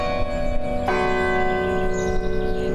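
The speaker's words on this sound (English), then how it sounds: "From the familiar chime of the bell tower" A university bell tower rings a sustained chime, the tone steady and resonant, then a new strike sounds partway through and lets the ringing swell and linger.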